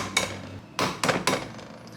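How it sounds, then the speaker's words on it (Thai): An egg being cracked against a bowl or pan while making a budget Thai scrambled-egg dish: a single sharp tap, then a quick cluster of three close knocks, crisp and near. "พยายามตอกไข่ให้มัน"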